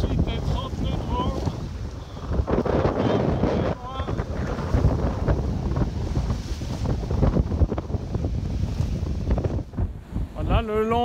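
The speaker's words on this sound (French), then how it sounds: "On a en 28 et 30 nœuds de vent." Strong gusting wind of 28 to 30 knots roars across the microphone aboard a sailboat off the Greek island of Kos, mixed with rushing waves and hull noise, with brief voices heard at the start and end.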